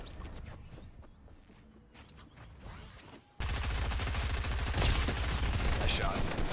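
Rapid gunfire bursts in the video game Fortnite crackle over a quieter stretch, then a loud dense volley takes over, with a player talking through it.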